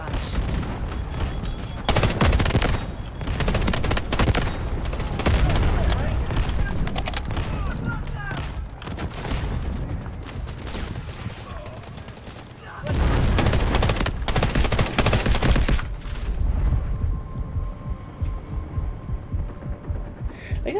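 Sustained gunfire barrage in the Delta Force Hawk Ops PC shooter, dense bursts and booms rolling continuously at loud level with brief lulls, a voice talking over the battle noise.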